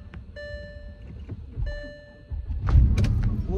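A car engine cranking and starting on a snowy winter day near Kyiv, with chimes and soft clicks first, then the motor catching and settling into a low, steady idle.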